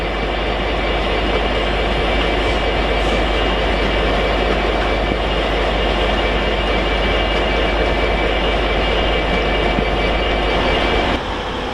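A Class 66 locomotive rumbles loud and close at Doncaster station on the East Coast Main Line, with a dense, steady roar of engine and rolling wagons that holds throughout and then drops away abruptly at the very end.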